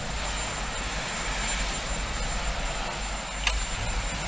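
The presidential helicopter at the Capitol runs its engine in a steady, broad whine and rumble, loud and continuous, with a brief sharp click near the end.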